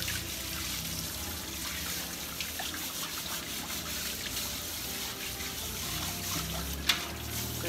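Water runs steadily into a container in a home kitchen, filling it for washing up. The flow is a continuous, even trickle and splash at close range, with no voices.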